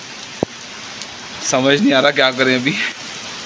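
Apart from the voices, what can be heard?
heavy rain falling outdoors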